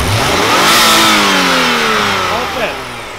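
A supercharged BMW car engine is revved hard at full throttle, a loud close roar that climbs in pitch, holds, then eases back toward idle, with a voice speaking briefly over it.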